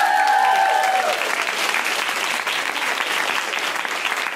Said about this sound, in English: big round of applause for Fiona